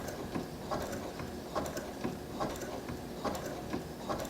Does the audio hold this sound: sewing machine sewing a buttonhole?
yes